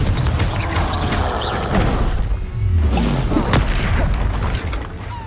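A Confringo blasting spell goes off in Hogwarts Legacy with a heavy booming thump. It is layered into a dense swirl of combat whooshes, crashes and spell effects, with no clear speech.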